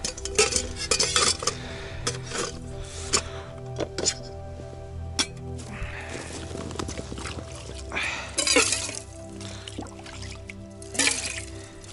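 A small metal pot being handled at an outdoor winter fishing camp, with clanks, clinks and light knocks of cookware and a little dripping water, spread irregularly over the stretch and fairly close.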